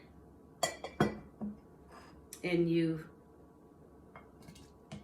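A glass jar is handled for raspberry-infused water, giving a few sharp clinks and knocks close by and a brief ringing scrape, with a voice speaking briefly in between.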